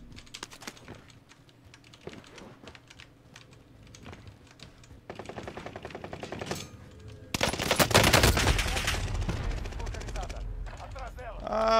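Video game gunfire on a gaming PC, quick rattling bursts that build from scattered shots to a dense, loud volley near the end, with speech mixed in.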